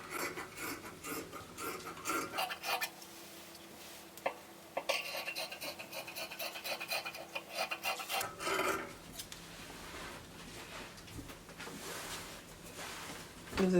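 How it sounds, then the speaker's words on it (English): Scissors cutting dress fabric for an asymmetric one-shoulder neckline, a soft raspy snipping and sliding of blades through cloth in uneven bursts with small pauses, faint and close. "So I will cut this side out."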